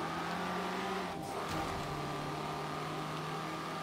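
Hyundai Veloster Turbo from the 2019 lineup in Forza Motorsport 7: a steady engine drone with a sustained turbo whine, a brief dip and shift partway through, then a constant hum continuing.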